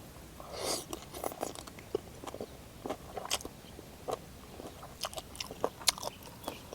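Crisp crunchy chewing of a spicy river mussel salad, a run of sharp bites and crunches in an uneven rhythm, close and fairly quiet, with no talking.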